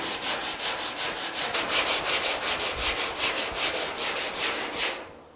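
Rhythmic back-and-forth strokes of a sanding block over body filler on a car door, about twenty evenly paced raspy scrapes, close and steady, no talking.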